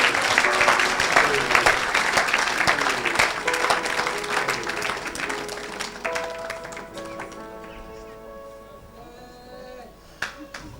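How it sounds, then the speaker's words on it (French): Audience applause and cheering at a church gathering, dense clapping that fades over several seconds as sustained organ or keyboard tones rise beneath it. "Acclamez pour les ordonnances."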